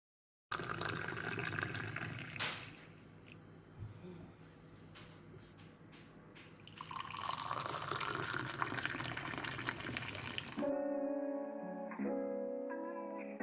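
Hot mint tea streams from a teapot into a glass, a continuous liquid pour and splash that shifts in pitch as it fills, then ends abruptly and gives way to a quieter tonal background.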